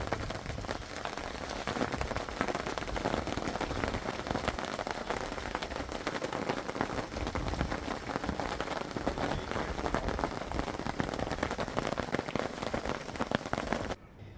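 Hail pelting down during a hot summer afternoon at Rooiputs in the Kgalagadi, a dense, steady rattling patter of impacts that holds evenly throughout, close and fairly loud, with no voices.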